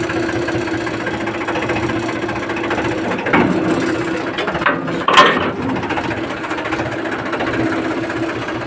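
A tractor engine runs steadily at close range beside a borewell, its mechanical clatter continuous, with a few louder knocks near the middle and no clear talk.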